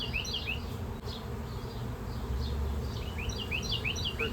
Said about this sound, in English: Listen to the Mama Bee.